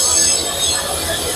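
Railway tamping machine at Siddipet railway station, a loud close grinding, squealing rumble of rail machinery that holds steady throughout.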